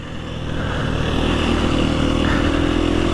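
An off-road motorcycle ridden on a training course, its engine a loud, steady close drone that builds at the start and holds with a gritty rumble throughout.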